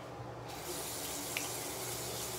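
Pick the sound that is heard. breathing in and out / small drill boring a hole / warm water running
warm water running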